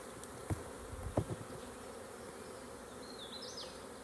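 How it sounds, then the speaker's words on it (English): Honeybees buzzing during a backyard nuc hive install, a steady low insect drone with a couple of brief knocks and handling sounds near the start and a faint higher whine late on. "I'm holding this right now and I can feel the bee vibrating."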